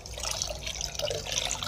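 Sodium chloride salt water solution poured into 5 liters of water for treating catfish, a steady, close trickle and splash that runs continuously without a break.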